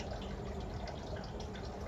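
Water pours steadily into a container for a couple of seconds, a soft continuous splashing and trickling close by, with no voices over it.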